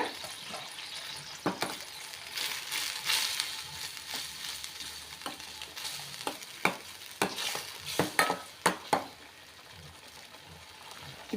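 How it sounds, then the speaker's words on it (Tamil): Spices sizzle steadily in hot oil while a utensil scrapes and stirs through them for a meal maker (soya chunk) gravy, with sharp clinks against the pan near the end. "எண்ணெயில் கொஞ்சம் ஃப்ரை பண்ணி விட்டுக்கோங்க ஒரு நிமிஷம்"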